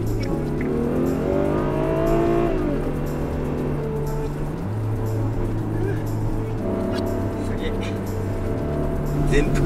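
A Ferrari 12Cilindri V12 cruising in wet mode, its engine a steady low drone with shifting tones and rising and falling pitch, heard from inside the cabin under continuous talk.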